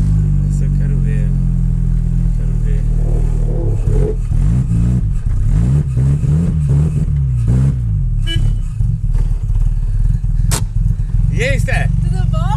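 A Chevrolet Chevette engine idling and revving up close, rising and falling in pitch over a steady low rumble, with people talking over it.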